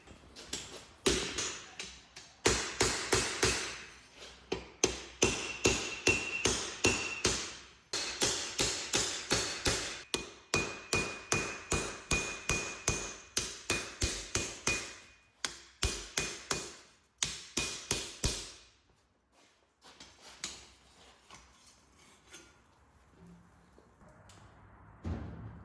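Hammer blows forge fullers and grooves into hot truck leaf spring steel for a survival knife, rapid ringing strikes in quick bursts with short pauses, close and loud, fading to quiet near the end.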